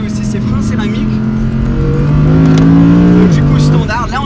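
An Audi R8 GT's V10 engine pulls hard under full acceleration, its strong, steady drone climbing in pitch for a few seconds before easing off, loud and close from inside the car.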